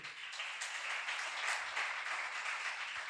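A church congregation gives a sustained round of applause, a soft, even wash of many hands clapping at a distance with no voices standing out.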